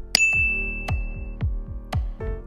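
Notification bell sound effect, one bright ringing ding at the start that sustains briefly over a series of deep, evenly spaced thumping hits.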